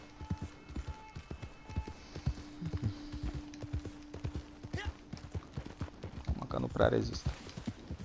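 Donkey hooves clip-clop in a steady trotting rhythm in Red Dead Redemption 2, with a brief gunfire-like burst near the end, while someone talks over them.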